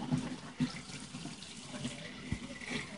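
A tap runs water into a sink or basin with a steady close splashing wash, with a few brief thumps and knocks over it and no talk.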